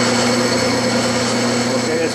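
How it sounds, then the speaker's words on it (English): A metal lathe spins steadily while a center drill bores a starter hole, a loud, close, even mechanical whine with a constant pitch, a brief stretch with no pauses. "Okay, it's been center drilled"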